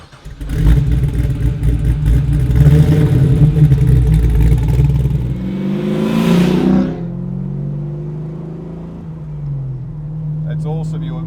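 A resto mod car's engine roars loud and close, revving hard and then pulling away as the car drives off, the rumble tapering into a steadier cruise.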